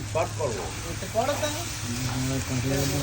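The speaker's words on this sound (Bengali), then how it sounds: "মশলাটা কিন্তু এখন জমিয়ে কষিয়ে নেওয়া হবে" Spice paste fried and stirred in a pan for a soybean-chunk curry made with coconut milk. A soft, steady sizzle with stirring scrapes runs under someone talking throughout.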